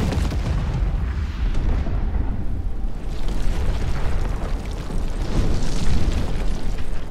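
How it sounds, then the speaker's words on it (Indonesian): A heavy, rumbling blast of an exploding ATV roars continuously with dense low-end boom and crackling debris noise, loud and sustained throughout, no voices. "anak buah Gautier yang membawa ATV tiba-tiba meledak."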